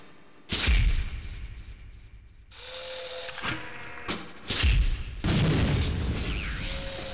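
Grenade launcher blasts from the Gunman Chronicles video game ring out as loud, booming explosions, several in a row with rumbling tails and mechanical clatter between them.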